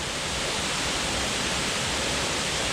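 Triple Falls waterfall rushing, a dense, constant roar of falling water heard up close, loud and unbroken with no other sounds.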